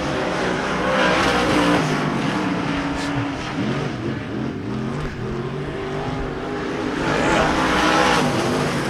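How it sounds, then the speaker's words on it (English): Race cars roar around Devil's Bowl Speedway, engines droning loud and continuous with overlapping passes, swelling near the start and again toward the end. "your leader is still the 12 car of Johnny Philpott."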